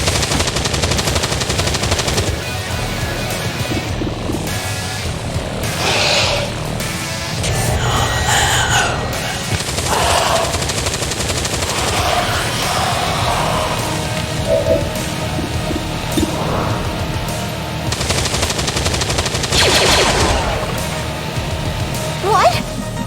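Video game gunfire in XCOM 2: War of the Chosen, bursts of automatic shots rising in clusters over a loud, continuous battle bed, with voices talking at points.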